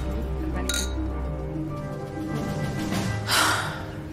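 Drinking glasses clink during a toast to a married couple, a bright ring early on and a louder chime near the end over a continuous bed of background music, with no one speaking.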